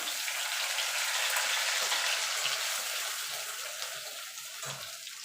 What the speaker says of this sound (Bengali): এবার ফোড়নটা একটুখানি ভাজা ভাজা করে নেবো